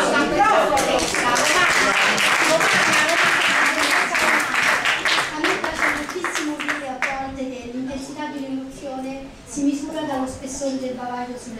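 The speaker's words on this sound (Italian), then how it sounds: "un applauso, un applauso, poetessa." An audience applauds a poetess at an Italian cultural award event, a dense burst of clapping that fades over several seconds as a voice speaks over the tail.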